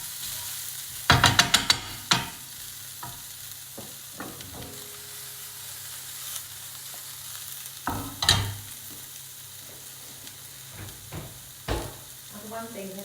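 Garlic dropped into onions frying in a pan gives a steady low sizzle, broken by a burst of sharp clatter early on and a few later knocks and scrapes of a utensil against the pan.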